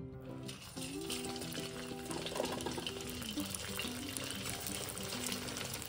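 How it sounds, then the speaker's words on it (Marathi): Sabudana vadas fry in hot oil in a pan, a steady close sizzle and bubbling that runs evenly throughout without talk. "आता आपण वडे तळून घेऊ"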